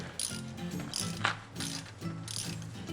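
A hand ratchet snugs bolts on a 727 automatic transmission, giving several short bursts of quick, close clicking with brief pauses between strokes and no talk.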